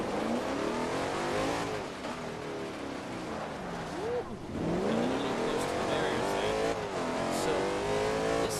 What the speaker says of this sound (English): that is one hell of an exhaust